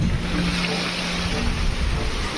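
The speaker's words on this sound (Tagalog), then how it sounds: "Grabe yung alon mga kalingap." Big sea waves crash and surge near a seaside house in bad stormy weather, a loud, continuous roaring wash of water filling the whole stretch without clear pauses.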